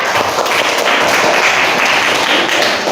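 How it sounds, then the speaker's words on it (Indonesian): Audience applause in a classroom presentation setting, a dense, steady wash of many hands clapping close by, sustained evenly for the full three seconds. "Tepuk tangan ya."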